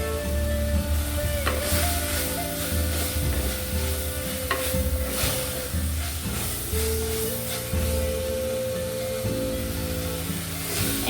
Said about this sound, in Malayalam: ഇനി നമുക്ക് ഉള്ളി നന്നായി വഴണ്ടി വരുന്നവരെ നമുക്ക് വെയിറ്റ് ചെയ്യാം കേട്ടോ